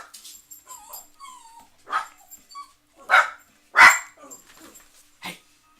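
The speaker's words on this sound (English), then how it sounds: "I have a dog, by the way." A pet dog yips and barks indoors, a handful of sharp barks building in loudness between softer whimpers and whines, with quiet gaps between them.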